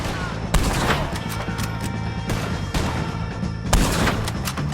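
Gunfire in Red Dead Redemption 2 during a shootout with O'Driscolls in chapter 6 at Beaver Hollow, a loud continuous fusillade with several sharp shots standing out over dense rumbling battle noise.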